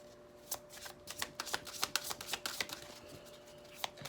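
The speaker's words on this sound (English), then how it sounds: "I'm going to just shuffle a few more times" Tarot cards are shuffled repeatedly in quick riffling bursts, crisp and close, with a short pause before one last shuffle.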